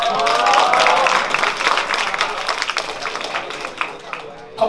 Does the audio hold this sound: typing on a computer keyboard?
no